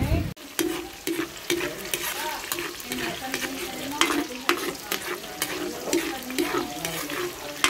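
Bami noodles stirred and frying in a hot pan, with a constant sizzle under repeated scraping and clattering strokes, close by, and faint voices briefly in the background.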